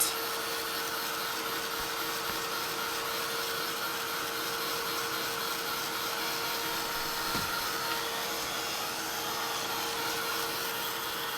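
A heat tool blows hot air over paint on a card in a steady, loud, even whoosh with a faint whine that holds without a break from start to finish.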